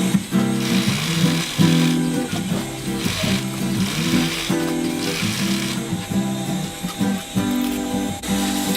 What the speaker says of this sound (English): do another round of stitching